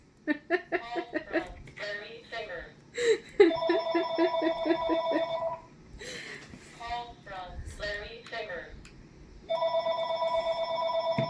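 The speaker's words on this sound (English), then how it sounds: "We're just going to ignore the telephone that is now ringing in the background." A telephone rings in bursts of bright, sustained electronic trills behind someone talking and chuckling in a quiet room, two clear ring bursts standing out between stretches of her speech.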